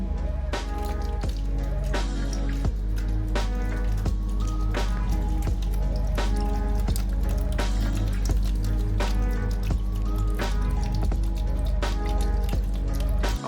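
Water drips steadily onto a small homemade water wheel, producing a continuous run of close, rhythmic drips and splashes that repeat about every second, with no voices.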